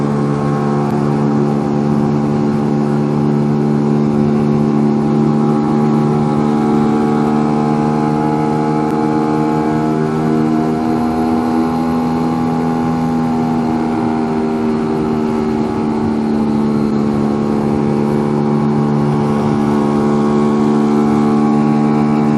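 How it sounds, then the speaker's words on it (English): A Lambretta scooter engine drones steadily while riding along the Lysefjord in Norway, its harmonic hum rising and falling slightly under throttle, loud and continuous throughout with no talk. "Why is it going so slow, my scooter?"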